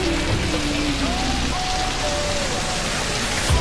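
Heavy rain pours down outside an ATM, a dense, loud, unbroken hiss of drops hitting the ground and surfaces nearby, holding steady throughout.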